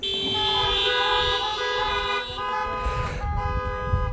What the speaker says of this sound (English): Honk if you're ready.